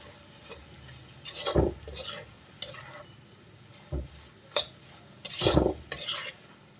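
A spoon scrapes and clatters around a pan as chili and turmeric powder are mixed into broccoli being roasted, in several distinct bursts with quiet gaps between them and a faint sizzle underneath.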